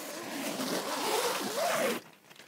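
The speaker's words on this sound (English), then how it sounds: "all zip up and down curtains" The window curtain zip on an Outwell Phoenix 7ATC tent is drawn in one long, close, loud pull lasting about two seconds, then stops abruptly.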